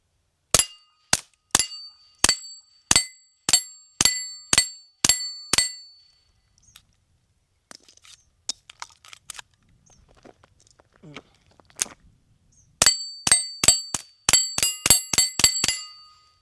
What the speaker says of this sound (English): I'm going to shoot the plates over there.